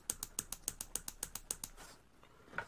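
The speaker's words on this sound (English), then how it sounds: "So I'm operating the switch like you're supposed to." A rapid series of small mechanical clicks and ratcheting snaps from the switch of a 1947 Philco 47-1230 radio phonograph changer, close and quiet, about a dozen in a row before a brief pause and one last click.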